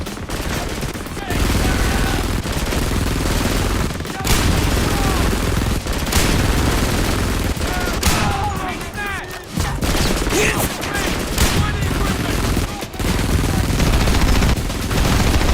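Dense battlefield gunfire from Frontlines: Fuel of War, loud and continuous, with automatic bursts and heavy shots rolling through the whole stretch and brief gaps, while shouted voices come through the combat.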